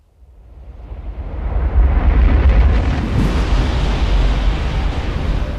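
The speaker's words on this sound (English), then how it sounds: "All the mass in the star collapses into its core, making it explode. This is a supernova." A deep, rumbling supernova explosion effect swells from near silence into a sustained, loud roar with a brief burst around its peak, staying heavy and broadband to the end with no voices.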